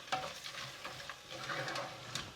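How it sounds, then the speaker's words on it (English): Frozen peas being stirred in a pan for matar paneer, soft scraping and shuffling of a spoon over a faint sizzle, quiet and close with no talking. "Give it a mix."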